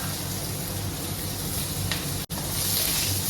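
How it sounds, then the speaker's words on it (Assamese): Onions, mustard seeds and two dried red chillies fry in hot oil left over from frying fish for an Assamese fish curry, giving a steady, close, continuous sizzle with one brief dropout. "পিঁয়াজখিনি অকণমান ভাজি ল'লোঁ।"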